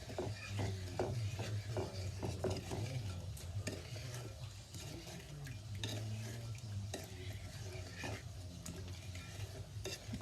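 Playdough ingredients get stirred together in a bowl, a close, steady scraping and mixing with light knocks of a utensil against the sides, no talking heard.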